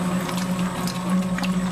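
Water is poured into dough turning in a spiral mixer, giving a steady mechanical hum from the machine with soft sloshing and splashing over it, close and continuous.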